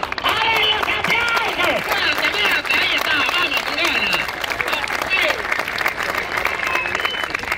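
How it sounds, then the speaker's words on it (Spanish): A live audience at a comedy show in Lanús applauds loudly and continuously, with cheering voices and shouts mixed into the dense clapping throughout. "¡A ver los aplausos!"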